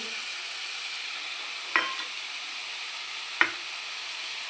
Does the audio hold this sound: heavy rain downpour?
no